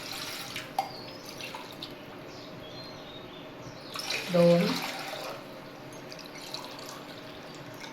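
Water poured from a glass into a pot for ragi ambil, a finger millet porridge, in a home kitchen: one brief splashing pour mid-clip, with a person talking and faint drips around it.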